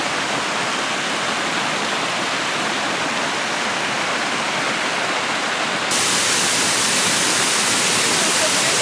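A water fountain in Rome cascades and splashes in a steady, dense roar of falling water, loud and close, growing slightly louder near the end, with no clear voices over it.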